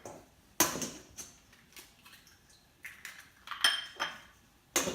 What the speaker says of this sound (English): We're going to start with 4 large eggs, alright? Just put that right into the bowl like that.